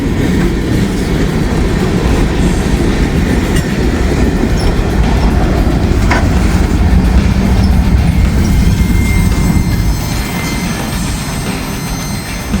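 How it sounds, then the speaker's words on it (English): A southbound Norfolk Southern freight train rolls past at close range in Kentucky, a steady loud rumble of wheels and cars with clickety-clack rhythm, faint wheel squeal, and brakes seemingly applied as the end of the train passes. "here comes the end of the train."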